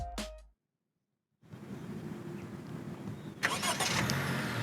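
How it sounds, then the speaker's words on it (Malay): A Honda City 1.5L V sedan starts by remote: a short click, a silent pause, then the engine catches and settles into a steady close idle with a slight lift near the end. "Honda City ini dia turut datangkan dengan remote start, di mana kita boleh start kereta dengan menggunakan remote"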